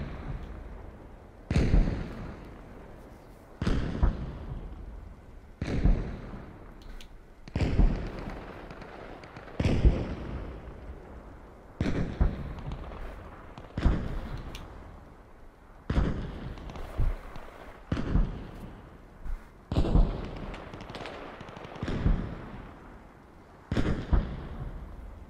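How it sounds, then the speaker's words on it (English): Airstrike explosions in the war video game Arma Reforger boom in a long series, about a dozen heavy blasts a couple of seconds apart, each with a rumbling tail. "The Russians have also called an airstrike."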